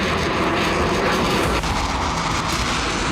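An Israeli IDF fighter jet passing over Lebanon, a loud, steady roaring engine drone that fills the whole stretch without a break or any voices.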